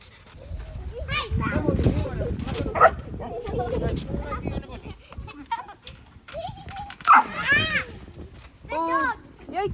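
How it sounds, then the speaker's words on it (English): Sharp yips and barks from a 16-week-old Belgian Malinois puppy, mixed with whimpers and excited voices of adults and children talking nearby; several short barks cluster in the middle and toward the end. "she scared me with a bark"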